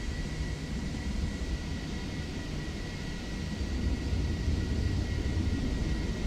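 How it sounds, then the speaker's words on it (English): Airliner landing at snowy Bergen airport in Microsoft Flight Simulator 2024, heard as a steady broadband engine roar and rumble with a faint tonal whine that swells slightly toward the end, with no talking. "Let's watch the aircraft land"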